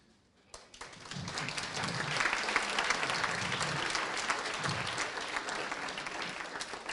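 Sustained audience applause from a conference hall crowd, many hands clapping densely and steadily after a sharp start, filling the room at close range.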